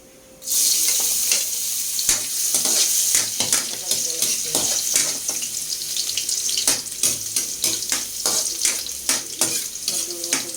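Garlic sautéing in hot oil for squash adobo (adobong kalabasa), a steady close sizzle with intermittent clicks and scrapes of stirring that runs throughout after a sudden start.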